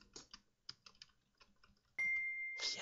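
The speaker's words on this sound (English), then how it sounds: "I'm spamming the keys." Computer keys hammered rapidly while playing Transformice, a quick uneven run of close, sharp clicks that gives way to a sudden loud burst of game sound.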